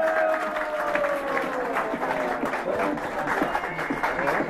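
Audience applause at a commemorative medal presentation ceremony in Sweden: a steady, dense wash of clapping from a crowd that holds for several seconds, with voices and a tonal sound mixed in beneath it.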